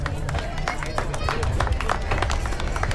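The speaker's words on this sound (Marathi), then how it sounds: "तर कृपया सर्वांनी टाळ्यांचा जोरजोरात गजर करावा." A crowd at a Bhim Jayanti celebration claps loudly and continuously, a dense, close clatter of many hands that holds steady throughout.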